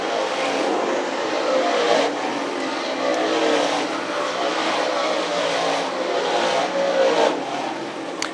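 DIRTCAR 358 dirt modified race cars roar down the front straightaway at Can Am Speedway in a dense, continuous engine drone with passing surges, heard from the grandstand without talk.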